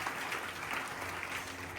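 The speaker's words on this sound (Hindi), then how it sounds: "एक बार मैं चाहूंगा कि नेहा मैम के लिए जोरदार तालियों से स्वागत हो" An audience claps steadily and evenly at a Bihar Police constable final-selection felicitation ceremony, welcoming a speaker with a faint, somewhat distant wash of applause lasting about two seconds.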